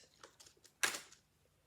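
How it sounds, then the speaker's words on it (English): Clicking from the legs of a Jurassic World Rebirth tail thrasher Spinosaurus toy being moved, heard as a few soft ticks and then one sharper, louder click, close by with no talking. "they have a little clicking sound if you move them up"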